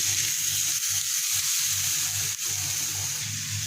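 Strips of steak fillet fry in a pan with a loud, continuous sizzle, steady and close, with light pulsing crackle and no voices.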